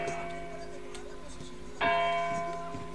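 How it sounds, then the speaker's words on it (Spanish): A large bell rings out in the 1896-set shooter Hunt: Showdown, a loud resonant strike with a long humming decay, struck again partway through so the ringing swells louder before fading. "¿Tocaste la campana?"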